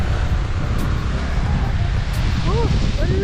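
Breezy wind sweeps across an outdoor exercise trail, a steady rushing hiss with low rumble filling the whole moment, while faint speech and birdlike chirps come through near the end.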